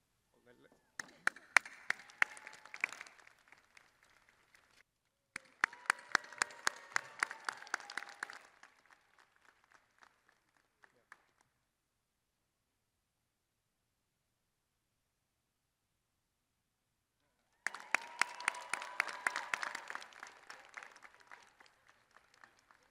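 Bursts of applause from a commencement audience honoring graduates and award winners, clapping swelling in three separate waves with silent gaps between, moderately loud in a large hall.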